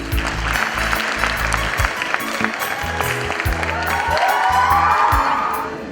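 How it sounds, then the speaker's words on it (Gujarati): Sustained audience applause at a school annual function, loud dense clapping from a large crowd with some cheering, steady throughout. "બેનના માટે એક વધુ તાળીઓ બજાવીએ."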